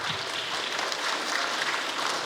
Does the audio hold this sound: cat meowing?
no